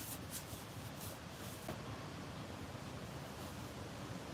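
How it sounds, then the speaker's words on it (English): Steady wind roars and buffets outdoors in a forest, a constant broadband rush with no voices. "It's a bit windy."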